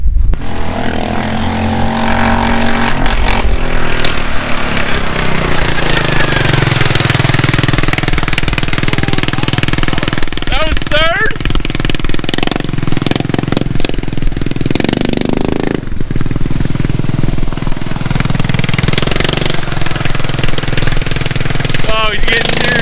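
A modified lawn mower engine at full throttle, loud and sustained with a rough, high-revving roar and surging pitch throughout, while excited voices talk over it.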